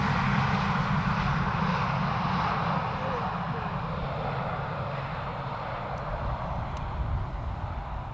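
An airliner lands at Schiphol without thrust reversers, giving a loud, steady broadband roar of engines and rushing air that holds evenly throughout with no voices.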